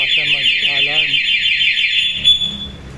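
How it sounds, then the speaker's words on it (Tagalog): A Yamaha Fazzio scooter's two-way alarm blares loud and close, a shrill warbling siren that holds for about two seconds before cutting off, with a voice talking over it. "bali na ikabit na natin yung two-way alarm. Tetestingin natin yun."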